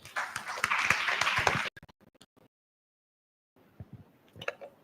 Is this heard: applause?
yes